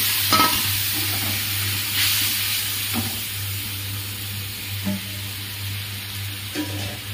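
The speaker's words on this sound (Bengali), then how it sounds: "তেলটা গরম হয়ে গেছে, এবার মশলাটা দিয়ে দেবো" Spice masala sizzles in hot oil tempered with nigella seeds, a continuous close hissing fry under a low steady hum, broken by a few scraping stirs of a spoon.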